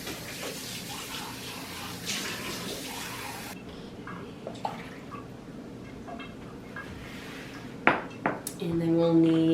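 Water being poured into a measuring cup in a home kitchen while making English muffins: faint clinks of dishes and utensils, then running, splashing water swelling near the end.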